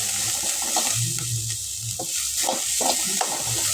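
A pan of ingredients with asafoetida sautés under a steady sizzle while a spoon stirs and scrapes in short repeated strokes close by, with no voices.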